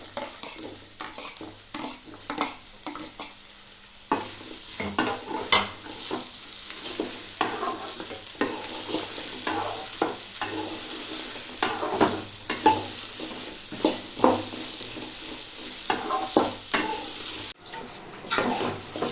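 Bitter gourd with onion and garlic sizzles steadily in a hot pan while a utensil stirs and scrapes at irregular intervals, close and continuous throughout.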